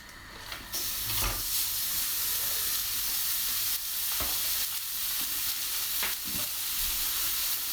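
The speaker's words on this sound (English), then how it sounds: "Right, let's get my mince in." Beef mince hits a hot, dry wok with no oil and sizzles loudly and steadily, a continuous close frying hiss broken by a few stirring scrapes, with no voices.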